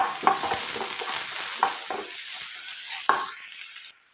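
Onion sautéing in a pan with urad dal and curry leaves for a carrot poriyal, a steady close sizzle with several soft spoon stirs and scrapes, no talking.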